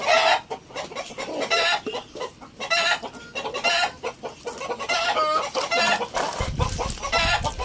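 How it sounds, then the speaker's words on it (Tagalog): A hen laying eggs clucks loudly and repeatedly in an agitated, rhythmic cackle, close by, with no talking. "maingay talaga yung manok kasi nangingitlog po yan"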